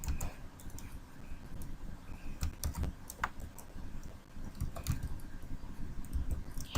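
Typing on a computer keyboard while working on a T-shirt design in Adobe Illustrator, with soft, irregular key clicks spread across the clip over a low background hum, close and fairly quiet.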